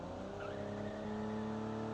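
A vintage car engine revving high in a car-building video game, a sustained close drone that climbs slightly in pitch, with no voices.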